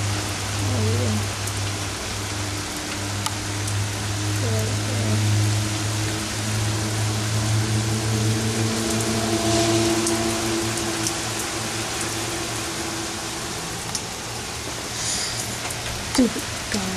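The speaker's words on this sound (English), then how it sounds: "I mean, it was raining like crazy." Heavy rain and hail falling outdoors, a steady dense hiss of drops with a low engine-like hum underneath and a few sharper hits near the end; faint voices in the background.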